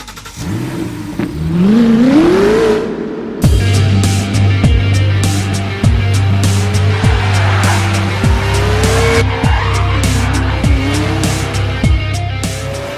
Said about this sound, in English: Drift, the world's first model car that performs with the same driving dynamics as a real racing car.